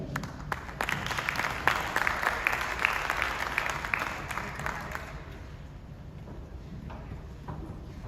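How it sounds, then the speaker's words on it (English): An audience at a crypto conference applauds a speaker taking the stage, with dense clapping strongest in the first half, then thinning and fading to a quieter room. "please give a warm applause to Daniel on the stage"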